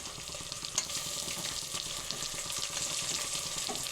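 Tomatoes tipped into a pan of softened onions and spices for a Kerala chicken curry, giving a steady close sizzle and frying crackle with light stirring scrapes throughout, no voices.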